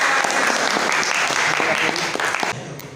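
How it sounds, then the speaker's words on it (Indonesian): A classroom of students claps together in steady, dense applause for over two seconds, then the clapping quickly dies away. "Oke, tepuk tangan."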